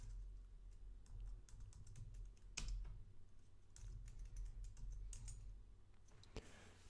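Quiet, close keyboard typing as a Linux terminal command is entered, with irregular bursts of key clicks and a few sharper keystrokes, alone without talk.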